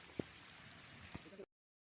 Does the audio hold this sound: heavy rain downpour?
yes